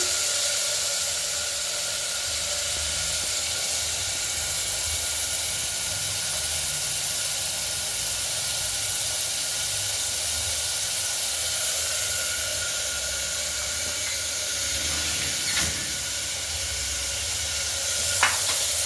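Chicken pieces sizzle steadily in hot sesame oil in a pan, a continuous close hiss of frying with a faint tap or two near the end.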